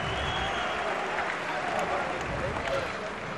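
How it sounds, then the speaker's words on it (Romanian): A crowd applauds a Romanian kickboxer at a K-1 event in Bucharest, steady sustained clapping and cheering in a large arena, with an announcer's voice over it. "Aplauze pentru românul nostru Raul Cătinaș."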